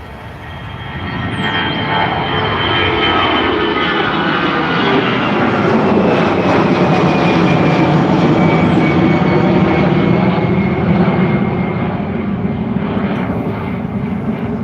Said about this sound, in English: That was a 20-minute late Aer Lingus Airbus A320-200 heading over to Birmingham